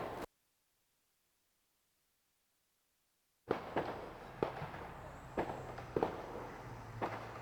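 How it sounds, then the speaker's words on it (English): Fireworks pop and crackle in a rapid series of sharp bursts over a steady outdoor rumble, starting after a stretch of silence and continuing unevenly to the end. "is that fireworks?"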